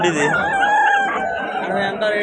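A fighting rooster at a festive-season poultry market in Vijayawada crows loudly and close, one drawn-out call over a noisy crowd background.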